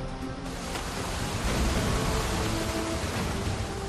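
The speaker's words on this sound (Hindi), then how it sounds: "पानी ब्रिज से ऊपर बह रहा है।" Floodwater in Rajouri, Jammu and Kashmir, rushes over a bridge during heavy monsoon rain. The torrent makes a loud, continuous roar that swells slightly after the first second and holds steady, with no voices.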